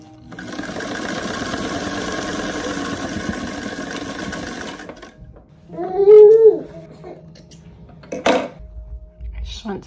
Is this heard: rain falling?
no